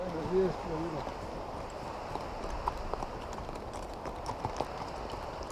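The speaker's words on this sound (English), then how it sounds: "Here comes the mule train, or the horse train, Caballo train." Pack horses' hooves clop steadily on hard ground on the Salkantay trek to Machu Picchu, moderately close and somewhat faint, with a voice talking briefly at the start.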